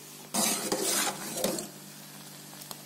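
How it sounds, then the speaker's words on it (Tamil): A spoon scraping and stirring millet porridge in a pot, a few brief scrapes close up, then quieter. "இந்த மாதிரி கட்டி விழுகாம கிண்டிக்கிட்டே இருக்கணும்"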